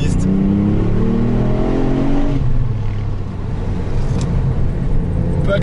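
A 2018 Ford Fiesta ST accelerates hard out of a corner, its engine note climbing in rising tonal sweeps for about two seconds, then settling into a steady loud drone with road noise, close and prominent.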